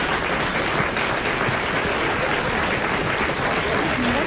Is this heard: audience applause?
yes